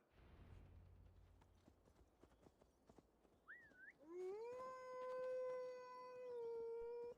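A horse's hooves clip-clop at a steady gait through a forest in Gloucestershire in the video game Assassin's Creed Valhalla. The hoofbeats are quiet and fairly close, and a long, rising howl takes over afterward.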